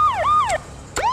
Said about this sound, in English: Just play with the siren.